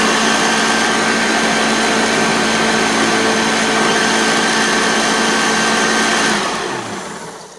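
A Hoover Junior U1104 upright vacuum cleaner motor runs loud and close with a steady, dense whine for several seconds, then spins down and fades out near the end.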